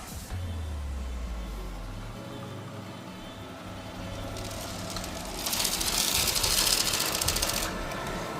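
An iRobot Roomba 104 robot vacuum hums steadily as its spinning edge brush sweeps cat food, with a rougher, gritty rattling burst partway through as the kibble is flung and scattered across the floor.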